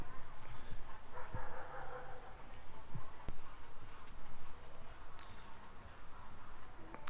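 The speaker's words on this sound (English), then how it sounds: "as dogs bark in the background" Dogs barking in the background near a house with garage doors: faint, distant yips and barks scattered through a steady outdoor noise bed, with a few light ticks and clicks.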